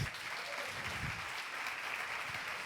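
A church congregation breaks into applause during a sermon, a dense, steady wash of clapping from many hands that fills the whole moment at moderate, slightly distant level.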